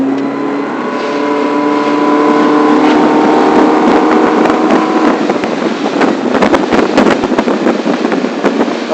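A motorboat engine opens up at full throttle on takeoff, a loud sustained roar that builds and rises in pitch, with wind and water buffeting close to the mic.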